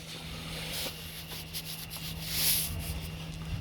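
Worn brake pads scrape and rub as they are wiggled back and forth and pulled out of a car's brake caliper, a close, steady gritty scraping over a low constant hum, with no talking.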